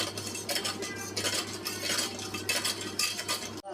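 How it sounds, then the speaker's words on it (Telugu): A spoon stirs sugar syrup in a pan for papaya tutti frutti, with steady scraping and light metallic clinks repeating in an even rhythm, close and alone. "చక్కెర కరిగేంత వరకు ఇలా కలుపుతూనే ఉండాలి."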